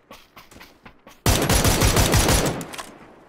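Sustained burst of automatic gunfire in the battle royale game PUBG, loud and dense for over a second after a few scattered quieter shots, with no talking.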